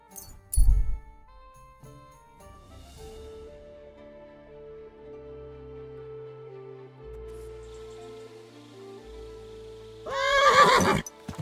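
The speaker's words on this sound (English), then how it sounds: "My God, that looks like a bloody expensive horse." A horse in Kingdom Come: Deliverance II lets out a loud, close whinny near the end, after a quiet stretch of game ambience, soft tones and a sharp thump at the start.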